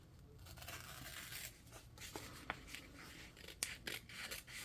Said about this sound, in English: I bought these little scissors and they're really not that great.